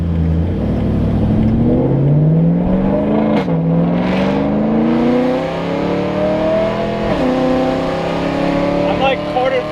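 A BMW with loud test-pipe exhaust revs up at part throttle, the engine note climbing in rising harmonic sweeps, dropping, then rising again, close and loud, while someone talks over it.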